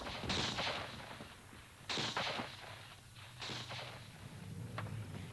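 Scattered sniper gunfire rings out in Bayeux, recorded for an archive newsreel: three separate sharp cracks, each followed by a rolling echo, faint under a dull background hiss.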